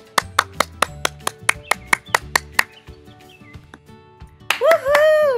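Hand claps for graduating fifth graders at a school clap out, a steady run of about a dozen sharp single claps, close and fairly loud, then a pause and a burst of high chirping sounds at the end.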